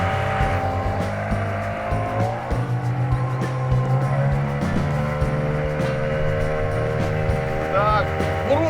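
A 9.8 hp outboard motor drives a loaded Yolva 6 boat, holding a steady, loud, close drone with a slight pitch wobble and water noise throughout, without talk.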